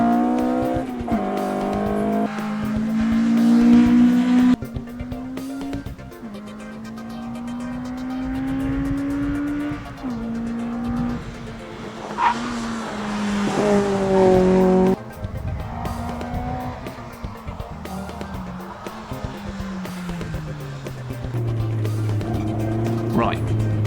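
A Mini race car with an A-Series engine and a 5-speed gearbox laps the Cobra circuit, its engine rising and falling through the gears with brief tire squeal, loud and close, while someone talks over it throughout.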